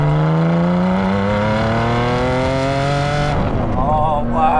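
A Ferrari Enzo sports car engine winds up through high revs, a loud sustained whine with rising harmonics that peaks and wavers near the end, heard alone without talk.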